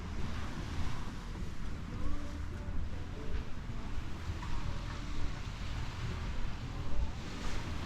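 Caribbean Sea waves at a Dominican Republic beach, a soft continuous wash of surf mixed with wind buffeting the microphone, with no talking.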